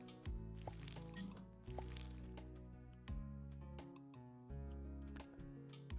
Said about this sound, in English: we've got to water them too